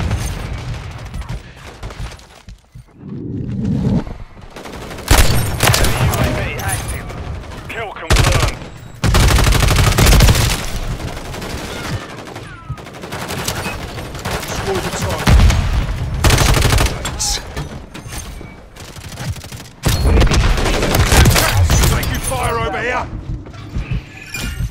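Automatic RAM-7 rifle fire in Call of Duty Modern Warfare 3 multiplayer, repeated loud bursts and rattling fusillades with explosions and brief pauses, under frequent voice callouts.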